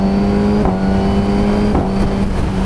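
A Suzuki GSXR-1000R sport motorcycle fitted with a Pipeworks decat exhaust idles and revs loudly up close, its deep steady engine note rising and dropping in short blips, with no voices.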